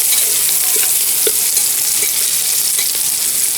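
Chopped green chillies and mixed vegetables fry in a pan for a vegetable tahri, giving a steady, close hiss of sizzling oil. Soft stirring clicks break through now and then.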